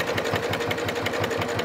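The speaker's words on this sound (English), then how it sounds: "And I'm just going to sew along." A sewing machine stitches along fabric for a bag at a chunky stitch length. The needle thumps in a steady, quick rhythm of even pulses over a constant motor hum, close and alone.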